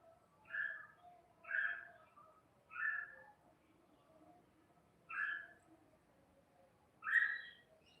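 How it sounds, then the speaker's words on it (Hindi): An Asian koel calls five times outdoors, each a rising whistled note repeated at irregular intervals of one to two seconds, clear but moderately distant against a quiet background. "कोयल की आवाज आ रही है"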